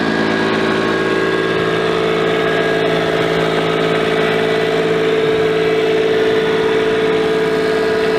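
Heavy equipment engine running toward the back pasture, a loud, steady, close rumbling drone with even vibration throughout and no talk.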